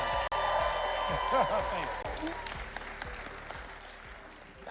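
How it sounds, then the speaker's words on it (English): Audience applause at a Morehouse campus event for an investment firm CEO, a steady dense patter of clapping that gradually fades, with someone speaking briefly over it. "got to keep another round of applause"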